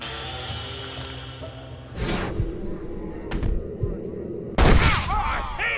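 Gunfire in the Red Dead Redemption video game rings out as a few sharp, loud shots spaced a second or two apart, each trailing off with a short echoing tail amid ambient game sound.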